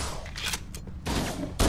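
Rapid gunfire bursts from Halo CE co-op campaign combat, a dense volley up front, a lull, then renewed loud firing with a sharp burst near the end.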